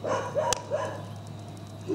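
A dog barks a few short, near yips and woofs while training on an agility course with a handler, the barks spread across a couple of seconds over steady background hum.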